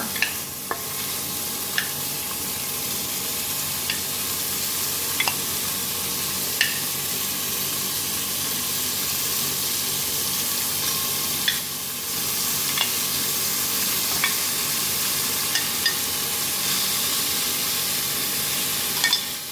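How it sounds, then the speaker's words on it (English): Beef chunks for carbonnade searing in oil in a pot, a continuous loud sizzle and hiss with occasional sharp pops and clinks as pieces are moved, no speech. "go ahead and put the rest of that meat in. And again, take your time, get a nice, good sear."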